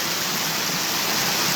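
Flowing water current at a fishing spot gives a steady, close, broadband rushing hiss with no breaks.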